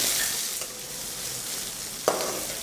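Finely chopped small shallots hiss in hot oil with a steady, close broadband sizzle, a single sharp clack of a utensil near the end, no voices.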